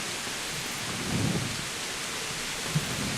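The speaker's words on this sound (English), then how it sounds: "It's not raining. It's freaking absolutely pouring." Heavy pouring rain in the video game Kingdom Come Deliverance, a steady, dense roar of downpour with a soft low rumble partway through and no talking.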